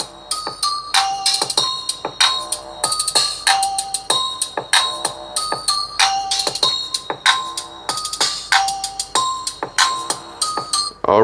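A chiming, bell-like ringtone melody plays through the stereo speakers of a Black Shark 4 phone, its rapid repeating notes steady and fairly loud throughout with no speech over it.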